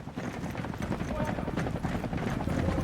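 An attack helicopter from the Call of Duty video game churns overhead as a steady, dense rotor rumble that fills the whole stretch, with faint voices mixed in.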